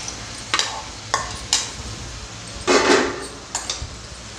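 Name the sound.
stirring brinjal chicken gravy in a pan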